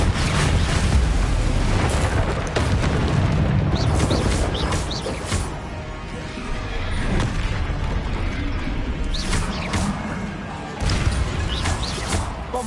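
Explosion spells cast in a Hogwarts video game fill the air with heavy, loud booms and crashing bursts, several impacts piling up into a continuous roar of battle noise.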